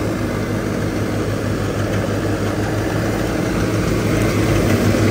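A 50 hp tractor engine fitted with a turbo runs steadily close by, a loud continuous drone with a low throbbing hum and broad hiss, no voices.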